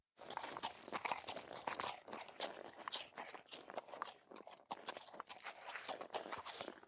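A saddled mare sets off on a cold evening, her hooves clip-clopping at a steady walking rhythm on crunchy ground, close and continuous with no voices.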